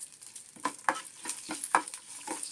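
Turmeric and asafoetida hit hot oil for a tadka in a pan, crackling and sizzling as a spoon stirs with repeated scraping strokes, close and fairly soft.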